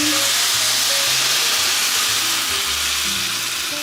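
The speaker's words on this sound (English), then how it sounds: "I love that sizzle" Steady loud sizzling as wine hits a hot pan of toasted risotto rice, constant frying hiss with faint clinks of stirring throughout.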